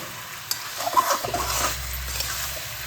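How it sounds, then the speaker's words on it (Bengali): Marinated chicken pieces for a Bengali chicken curry are stirred and fried in a pan: a few scraping clinks of the spoon, then a steady close sizzle that continues alone to the end. "এবার ভালোভাবে কষিয়ে নেব।"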